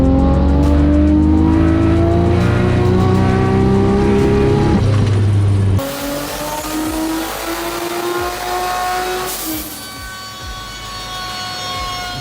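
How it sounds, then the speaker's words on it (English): A 1200hp turbocharged BMW E36 M3 engine on a dyno: loud, sustained climbing harmonics as it pulls hard through the revs, a sharp break, then a second rising pull that tapers off near the end. "That's the dyno that we did actually today, this morning."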